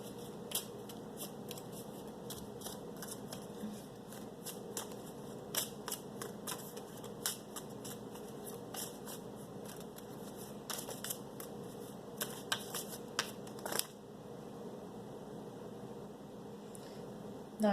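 Tarot cards are shuffled close by in soft, papery riffles and snaps, scattered irregularly over a quiet background hiss.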